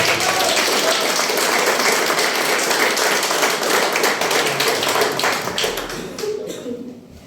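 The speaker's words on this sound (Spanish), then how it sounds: "un gloria a Dios y un aplauso que le manda" A church congregation claps in praise to Christ Jesus, dense and sustained applause with voices mingled in that tapers off toward the end.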